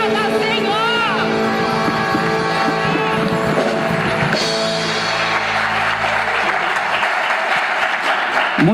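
During a baptism worship service, a church congregation applauds loudly and densely over the last notes of singing and music, with voices mixed in; the clapping continues as the music falls away.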